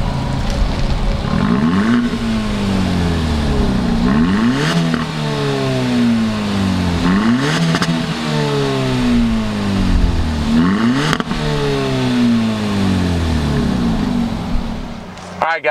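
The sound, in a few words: 2019 Hyundai Elantra Sport engine starting and revving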